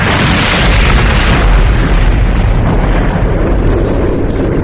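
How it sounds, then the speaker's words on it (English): Explosion effect of the 59th Street Bridge in New York being blown apart through its girders and trusses: a loud, sustained, dense roaring boom with deep rumble and hissing debris that fills the whole stretch without letup. "A massive explosion ripped through the girders and trusses of the 59th Street Bridge."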